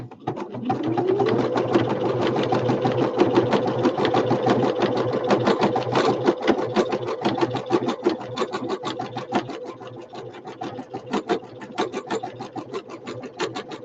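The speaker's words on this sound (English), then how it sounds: "So this is called a honeycomb stitch." A sewing machine sews a wide decorative honeycomb stitch on a machine cover, a loud, close, steady mechanical whirr with rapid rhythmic clatter throughout and no talking.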